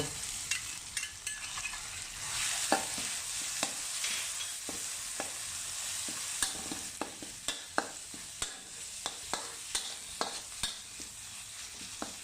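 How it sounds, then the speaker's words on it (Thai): Garlic and chili stir-fried in a wok, then roasted chili paste added for shrimp and squid: a steady close sizzle with frequent sharp scrapes and clanks of the spatula against the pan, no talking. "ผัดพริกกระเทียมให้พอหอมนะพี่น้อง แล้วก็โบกไฟลงมา จากนั้นก็เอาน้ำพริกเผาใส่ลงไป"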